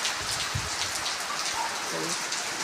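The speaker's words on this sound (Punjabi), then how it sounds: "ਮੀਂਹ ਤਾਂ ਪੈ ਗਿਆ" Rain falls with a soft, even hiss and pattering drops on a rural home's surroundings, faint and continuous, with a few low thumps and a brief tonal sound partway through.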